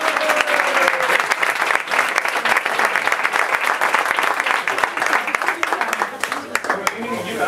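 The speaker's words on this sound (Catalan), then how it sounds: "Un aplaudiment per la Costera!" Sustained audience applause at a Valencian comedy show, dense and loud throughout, with a voice briefly heard over the clapping near the start.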